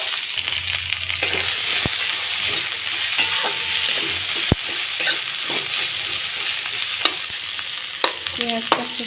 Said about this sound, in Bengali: কড়াই অল্প তেল দিয়ে কেটে রাখা পেঁয়াজগুলো দিয়ে দেব